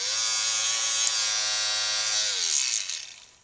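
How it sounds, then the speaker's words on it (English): A Philips Norelco QT4085 beard trimmer with uncharged batteries runs its fan and motor slowly, a steady close buzzing hum that starts to wind down and drop in pitch near the end. "it did turn on the fan and motor at a slow rate"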